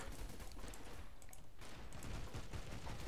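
Dense, continuous gunfire with incendiary rounds in the video game BeGone, a steady loud rattle of overlapping shots filling the whole span with only a brief dip midway.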